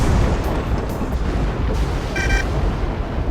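A destroyed Shivan warship, the Dahaka, blows apart in Freespace 2 space combat, a loud continuous deep rumbling blast with rolling booms and crackle filling the whole moment.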